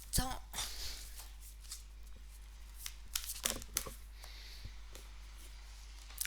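Tarot cards are handled and shuffled in brisk, papery flicks and slides, close and fairly quiet over a steady low hum, with a voice talking at moments.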